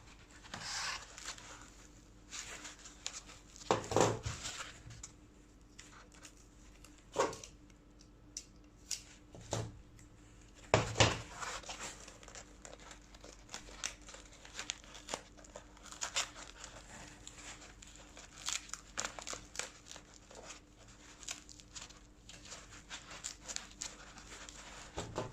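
Double-sided tape is handled on a foam tray for miniatures, giving quiet close crinkles, peeling and tearing rustles and scattered soft taps in irregular bursts against a faint steady hum.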